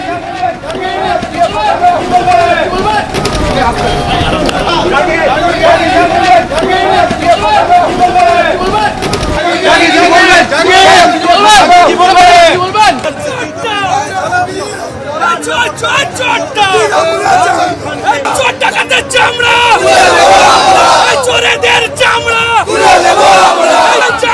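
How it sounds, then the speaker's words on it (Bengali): A dense, loud crowd outside a courthouse shouts angry slogans of "thief, thief" at Jahangir Khan, with overlapping voices and continuous babble for the whole stretch. "জাহাঙ্গীরের উদ্দেশ্যে আজ চোর চোর স্লোগান ওঠে"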